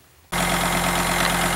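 A farm tractor idles close by with a steady, loud low rumble that kicks in abruptly after a brief quiet moment and holds even and unbroken.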